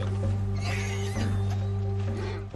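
A horse neighs in Red Dead Redemption 2, heard over a steady low game hum, with a whinny standing out near the start and middle of a short, close-sounding passage.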